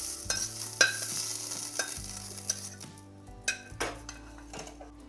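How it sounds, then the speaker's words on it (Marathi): Roasted peanuts and carrots stirred and scraped out of a hot pan onto a plate for a Maharashtrian bhogichi bhaji, with faint sizzling, utensil clinks and scrapes over a steady background hum. "यांना आपण प्लेटमध्ये काढून घेऊ."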